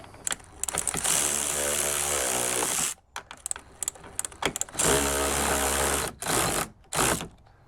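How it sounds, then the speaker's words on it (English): Power driver whirring in two long bursts with short stops, driving screws to mount a side mirror on a 2015-2018 Toyota RAV4, loud and close with no talk. "we'll start one of our screws here. I just want to snug this one up slightly."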